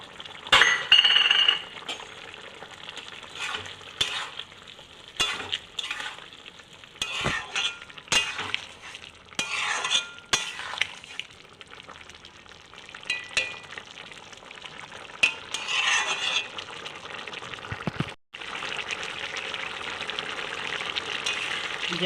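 Bitter gourd and fulbori curry in mustard-poppy paste simmering in a pan, soft sizzling with intermittent spoon scrapes and clinks against the pan over about twenty seconds, fairly quiet and close.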